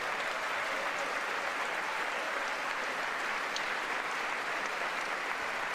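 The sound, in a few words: bipartisan applause in Congress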